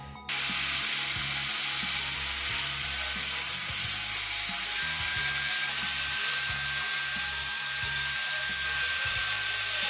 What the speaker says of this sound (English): So I've got a brand new 80 grit belt on my belt sander.